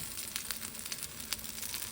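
Pancakes fry in a frying pan with a faint, steady sizzle and scattered small pops and crackles. No one speaks.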